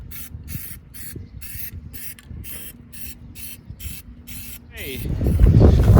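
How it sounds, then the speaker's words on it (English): Plasti Dip aerosol sprayed onto 19-inch wheels of a 2020 Tesla Model 3 in repeated short hissing bursts with brief pauses, followed by a louder rumble of handling and voices at the end. "now we have put on our additional 3 coats of the waxy dip."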